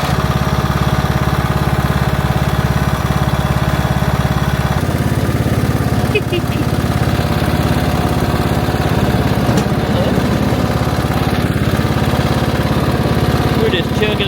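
A Troy Bilt Bronco riding mower engine running steadily, a loud continuous drone close by with a slight shift in pitch midway, a voice speaking briefly over it.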